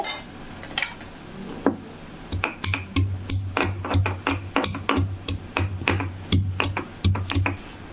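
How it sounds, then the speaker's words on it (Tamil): Peeled garlic cloves are pounded on a stone in preparation for a tomato thokku, giving a series of sharp, close knocks in an uneven rhythm that comes faster toward the end, with no one talking. "இதை வந்து நம்ம 1-2 அப்படியே தட்டிக்கலாங்க கல்லில் போட்டு"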